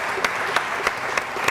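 Studio audience applause on a morning television show: steady, dense clapping from a crowd, continuous and fairly loud with a few sharper claps standing out.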